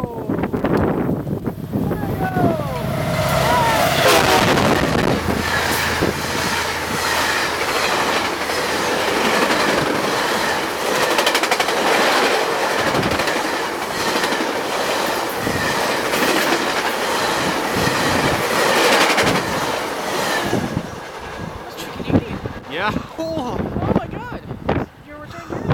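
The VIA Rail Canadian passenger train passes close at 75 mph, a loud roaring rush of wheels and cars with rhythmic clickety-clack and faint squeal, fading at the end as onlookers talk.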